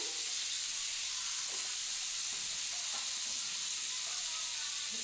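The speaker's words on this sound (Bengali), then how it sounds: "ওটাকে নুন আর হলুদ দিয়ে আমাকে একটু ভাজতে হবে" Fish pieces frying in hot oil with salt and turmeric give a constant bright sizzling hiss, close and even throughout, with faint stirring underneath.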